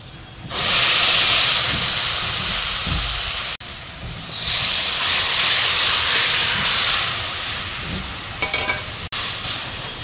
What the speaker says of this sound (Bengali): এবার আমি ঝোলটা দিয়ে দেব।